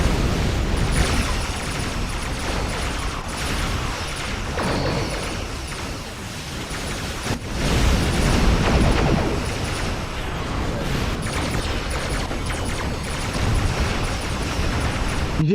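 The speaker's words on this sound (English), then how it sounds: "You didn't quite hear me over the explosion." A space combat explosion in the game Star Trek Online: a broad, rumbling blast that swells and fades over several seconds, with a heavier burst partway through, amid continuous dense game noise.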